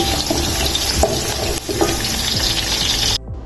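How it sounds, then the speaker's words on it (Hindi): Finely chopped onions sauté in plenty of hot oil for beef nihari, sizzling loudly and close, with a stirring scrape now and then before the sound cuts off abruptly. "निहारी के अच्छे कलर के लिए हम प्याज़ों को थोड़ा गोल्डन ब्राउन करेंगे"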